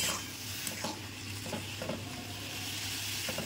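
Durga Chatu straw mushrooms frying in a pan give a soft, continuous sizzle with a few light stirring clicks, close but quiet, and no one speaking.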